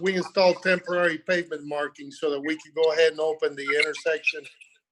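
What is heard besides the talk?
No distinct noise like a dog, phone or traffic.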